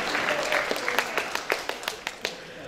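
An audience at a university ceremony introducing faculty applauds with a mix of scattered, distinct claps over softer background clapping, moderately distant. The claps thin out to sparse individual hits toward the end.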